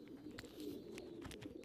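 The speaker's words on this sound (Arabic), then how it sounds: "الحمام قاعد يخربط في السلك" Caged pigeons in a wire pen coo repeatedly at close range, with soft calls and brief fluttering taps against the wire and low steady background noise, no speech.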